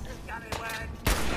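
Gunfire in the Fallout 4 video game, two sharp close shots about half a second apart in a very short burst.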